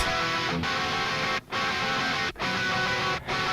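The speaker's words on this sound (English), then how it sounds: "two different guitar sounds combined." Thick, saturated electric guitar chords ring out continuously, dense and loud, with three brief breaks between sustained strums.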